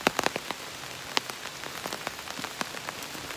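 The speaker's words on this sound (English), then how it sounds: "I whipped out the umbrella because it's really starting to rain." Rain pattering on an umbrella in the woods during a hike, with scattered close drops tapping irregularly over a steady soft hiss of rainfall.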